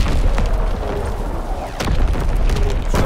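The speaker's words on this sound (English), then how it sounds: "Incoming enemy artillery." A booming artillery explosion in the Call of Duty: WWII video game, heavy low rumble filling the whole stretch with a sharper burst near the end, loud and close with no talk.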